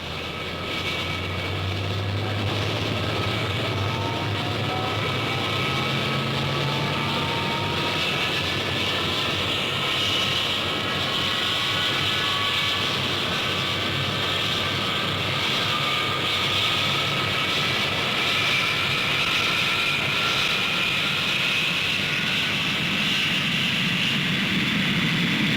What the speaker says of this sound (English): Concorde nosed slowly out towards the starting point of her flying career.